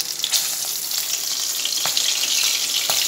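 Tomatoes hit hot oil along with cumin and chilli and fry with a loud, close, continuous sizzle crackling with small pops, with no voices.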